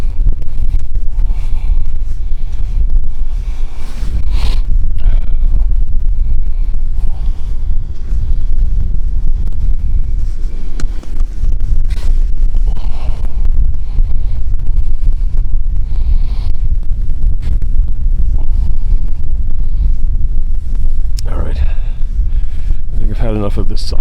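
Wind buffets a handheld microphone on an Ocean Shores beach walk, a loud, continuous low rumble with gusty surges that fills the clip while someone talks over it.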